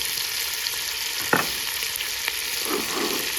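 Chopped onions and carrots fry in a pan with pancetta, a steady close sizzling hiss with a couple of brief stirring scrapes and no talking.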